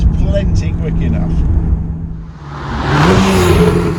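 Porsche 991 GTS with a 430-horsepower naturally aspirated flat-six engine, heard as a whirring engine note that swells into a louder rising rev toward the end.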